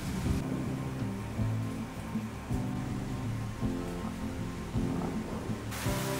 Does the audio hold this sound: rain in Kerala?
yes